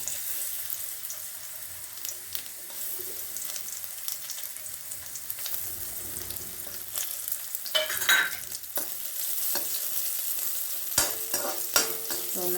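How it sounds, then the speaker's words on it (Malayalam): Raisins frying and being stirred in a pan for a rice-flake payasam dessert, a steady close crackle with spoon scrapes and stirring clatter that grow busier toward the end. "ഇനി നമുക്ക് ആ മുന്തിരിങ്ങയും കൂടി ഇട്ടൊന്ന് വറുത്തിട്ട് പോരാം"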